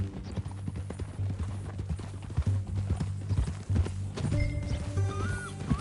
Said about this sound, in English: Is that a new horse?